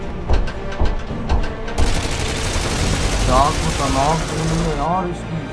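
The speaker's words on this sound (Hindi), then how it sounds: "ये गन 1 मिनट में 800 गोलियां फायर करती है" A Bhishma tank's machine gun, firing 800 rounds per minute, lets off a few rapid bursts, then a loud, harsh roar of heavy firing and engine noise continues with a voice talking underneath.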